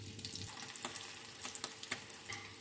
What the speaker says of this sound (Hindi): बाकी भी हम चिकन आलू के कबाब को फ्राई कर लेते हैं।